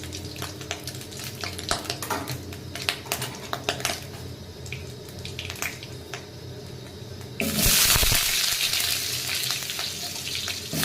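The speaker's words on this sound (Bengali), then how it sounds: "দেখো এখন আলু আমি ফ্রাই করছি খুবই কম তেলে" Potatoes frying in a small amount of oil in a pan give a close, steady sizzle that swells to a louder, dense hiss partway through, with light clinks and stirring.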